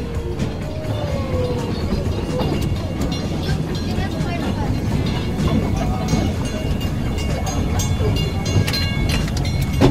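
An old steam train runs in Melbourne, a continuous loud rumbling rail clatter filling the whole stretch, with people talking faintly beneath it.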